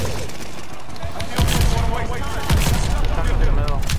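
Rapid gunfire and explosive bursts from the video game Call of Duty Vanguard, dense and loud throughout with heavier volleys kicking in partway, over constant battle noise.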